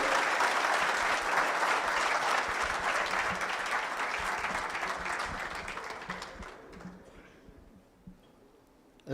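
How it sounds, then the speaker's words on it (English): An evening event audience at a live-streamed Kuwait gathering gives a warm round of applause welcoming a champion sprinter to the stage, dense clapping that gradually thins and fades out over about nine seconds. "Let's welcome him with a big round of applause."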